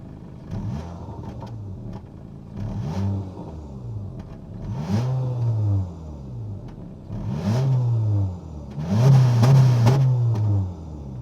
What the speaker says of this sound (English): that was the sound of the 2-liter naturally aspirated 4-cylinder engine